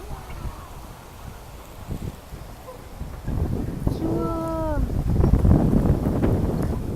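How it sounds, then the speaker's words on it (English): Strong wind buffets outdoors in the dark, a rough rumbling gust that builds and stays loud, with rustling and a brief tonal whistle mixed in. "that's crazy wind"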